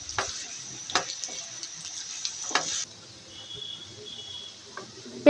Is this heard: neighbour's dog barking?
no